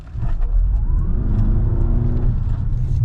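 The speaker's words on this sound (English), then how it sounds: "you can hear the motor kick in, and it actually started turning the engine" A 2020 Toyota RAV4 Hybrid in sport mode pulls away under acceleration, its gas engine starting up and joining the electric motor. A loud, steady low rumble with a rising whine runs close by throughout, with no talking.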